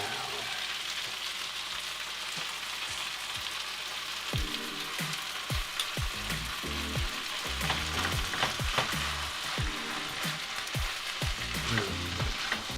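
Vegetables sizzle and fry in a pan as sauce goes in. A steady hiss runs throughout, broken by scattered pops and crackles as the food is stirred, heard close and fairly quiet.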